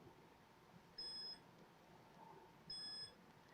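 Two short electronic beeps from a TerraMaster F8 SSD Plus NAS rebooting, evenly spaced about two seconds apart, each a clear high tone with harmonics over a faint steady background hum.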